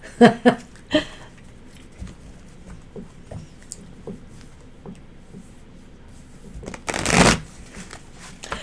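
Tarot cards being shuffled: a few sharp riffles at the start, then soft scattered card taps, and a loud dense shuffle burst near the end.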